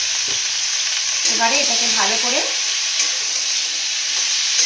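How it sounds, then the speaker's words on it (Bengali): Loud, steady sizzle of pumpkin frying with a fish head (hilsa) in a pan, with scraping stirring sounds and a brief spoken phrase over the hiss. "নাড়াচাড়া করে ভালো করে ভাজা করে তারপরে"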